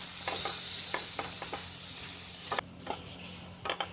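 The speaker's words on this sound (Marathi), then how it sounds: "आता वाटाणे पण मस्त फ्राय झाली आहे." Green peas fry in a pan over a low gas flame with a soft, steady sizzle, while a spoon scrapes and taps against the pan in irregular strokes, close up and fairly quiet.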